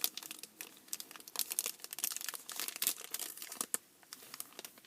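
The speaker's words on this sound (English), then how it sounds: "So let's poke a hole at the bottom of this plastic bag." Close, dry crinkling of a plastic bag, irregular bursts of rustling and crackling continuing throughout with no voices.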